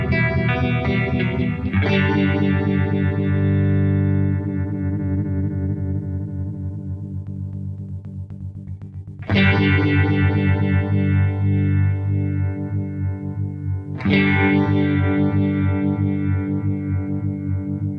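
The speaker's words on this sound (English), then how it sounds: "I'm on the green, the kind of traditional Uni-Vibe sound." Electric guitar run through the green traditional Uni-Vibe setting of an Eventide Riptide pedal, with sustained chords that throb and swirl, struck again about three times and ringing out loud and alone.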